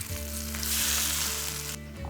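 A sudden loud burst of sizzling as hot frying oil is poured over green chili sambal, hissing strongly for a couple of seconds over a low steady hum.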